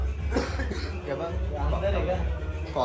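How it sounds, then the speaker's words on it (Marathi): A person coughs a few times, sharp and close, mixed in with talking voices at a Ganpati immersion gathering. "आता खोकला खोकू नको"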